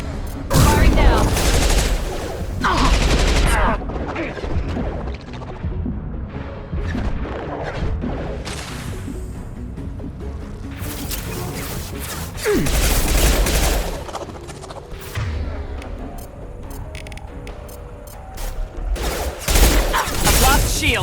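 Sci-fi weapons fire in Mass Effect 2 on Insanity difficulty, a loud, dense battle of repeated shots and crashing impacts in bursts across the whole stretch, with game voices now and then.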